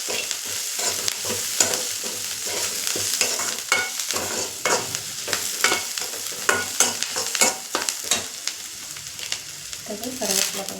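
Crushed garlic sizzles steadily in hot oil in a pan, with repeated scraping clatters of a spoon stirring it close by.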